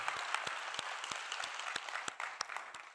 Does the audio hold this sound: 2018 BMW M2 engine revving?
no